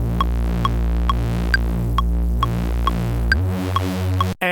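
A Reese bassline synth with its filter cutoff turned down plays a dark, throbbing low drone with soft clicks repeating evenly. The pitch drops near the end, and the sound then cuts off abruptly.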